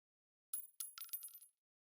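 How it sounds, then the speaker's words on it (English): A metal shell casing rolls and clinks across a hard floor in the video game Nikke, a short run of bright metallic taps and tinkles lasting about a second, heard alone after a quiet start. "Then the echo of a shell casing rolling on the..."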